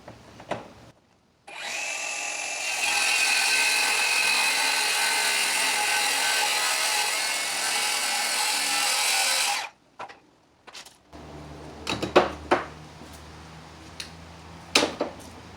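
A circular saw running along a homemade aluminum track guide makes a steady loud whine for about eight seconds as it cuts a door board, then stops, followed by scattered clatter and handling knocks.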